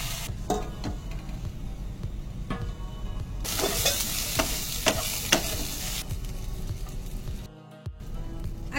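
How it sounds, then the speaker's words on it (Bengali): Potatoes fry in a pan, a continuous close sizzle broken by repeated scraping strokes of a stirring spoon, briefly cutting out near the end, with no talk. "আলুগুলো দিয়ে দিয়েছি, আলু ভাজা হবে।"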